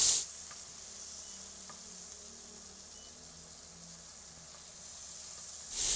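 BBQ tikka pieces fry in a pan, giving a soft, even sizzle and hiss that holds steady and fairly quiet for several seconds with no talking.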